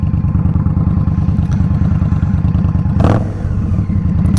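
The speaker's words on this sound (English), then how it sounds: "this thing just sounds good. Really good with these shorty exhausts on it." A 2023 Indian Scout Rogue motorcycle fitted with shorty exhausts, its engine throbbing loud and close with a steady, deep pulsing beat and a brief sharp rev near the end.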